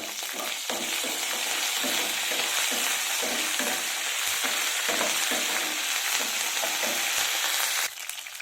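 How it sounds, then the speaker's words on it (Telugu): Dried red chilies and curry leaves crackle and sputter in hot oil for a potato fry, a steady, loud sizzle with irregular bursts of popping throughout, with no talk. "ఇప్పుడు ఎండుమిర్చి, కరివేపాకు కూడా వేసేస్తాను."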